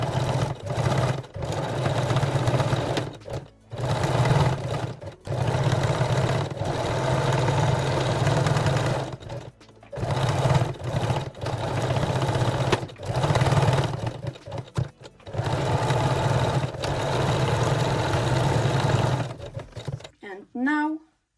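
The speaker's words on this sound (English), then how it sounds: "Now sew the strap loops in place with a zigzag stitch by sewing forward," A sewing machine hums steadily in a zigzag stitch, tacking strap loops onto a bralette, running forward and back in long close runs with brief pauses between them.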